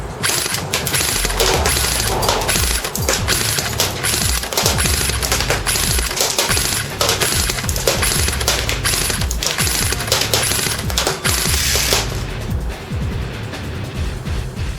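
A Well R1 UZI airsoft gun fires on full auto at a target from about 100 feet, producing loud, rapid, rattling bursts of shots that run almost continuously for around twelve seconds before stopping abruptly.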